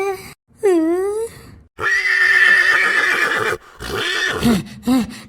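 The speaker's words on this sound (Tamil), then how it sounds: "குதிரை" A cartoon horse in a Tamil animated show gives a loud, wavering whinny, with other sharp animated voices and effects close behind it.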